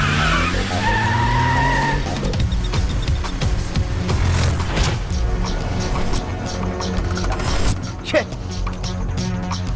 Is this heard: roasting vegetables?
no